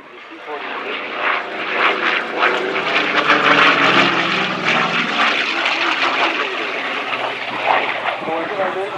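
F4U Corsair, a WW2 warbird, flying a demonstration at an air show: a steady, loud propeller-engine drone that swells slightly midway, with a person talking over it.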